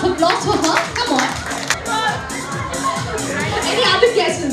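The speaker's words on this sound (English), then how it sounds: "Can we give her a big round of applause for her?" Guests at a child's tenth birthday party give a round of applause, scattered claps among lively chatter and children's voices throughout.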